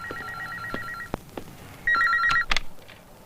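A phone call rings through to a police station in a dramatic film scene: a beeping electronic ringtone in two bursts with clicks and taps between them, nobody speaking.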